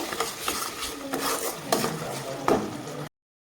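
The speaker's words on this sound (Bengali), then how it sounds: "তো এখানে আমি মশলাটাকে সুন্দরভাবে কষিয়ে নিব" Spice paste of cumin and coriander powder with salt and a splash of water is stirred and sautéed in a pan, heard as close scraping strokes over a soft sizzle for a few seconds.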